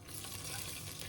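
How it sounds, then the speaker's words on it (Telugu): Slit green chilies sizzle in hot ghee and oil with fried biryani spices, a brief, dense, close crackle with no voices. "ఇప్పుడు ఇందులోనే చీలికలుగా చేసుకున్న పచ్చిమిర్చి వేసుకుంటున్నాను"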